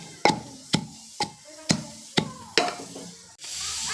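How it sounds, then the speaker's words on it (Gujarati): Ginger, green chilli and garlic pounded for kadhi, six sharp, evenly spaced thuds close up, each with a short ringing decay, followed by a steady hiss of sizzling or scraping. "તો કઢી માટે આદુ મરચું ને લસણ પીસું છું"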